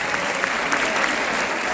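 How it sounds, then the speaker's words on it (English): An audience claps steadily at a school talk, a dense, even wash of applause held at one level for a couple of seconds with no voices over it. "Can you all give her a round of applause?"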